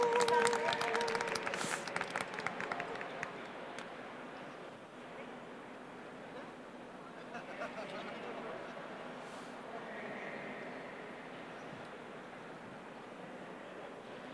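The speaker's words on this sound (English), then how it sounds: "Big round of applause" Audience applause at the 2022 US Brewers Cup Championship in Denver, strongest at the start and then easing into a softer, steady patter of clapping with crowd murmur in a large room.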